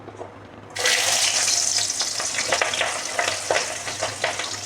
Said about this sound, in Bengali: তেল গরম হয়ে গেছে, এতে কিন্তু আমি পেঁয়াজগুলোকে দিয়ে দেব